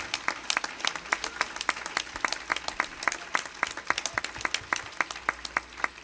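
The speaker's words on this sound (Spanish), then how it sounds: "Eso cuando aplaude usted con ganas, con alegría." A church congregation claps with enthusiasm during a sermon, a fairly sparse, uneven patter of individual hand claps that carries steadily and stays moderately close.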